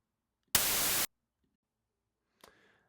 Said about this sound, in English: It's a very familiar sound if you have ever used the old CRT TV and tuned it to a channel that you didn't have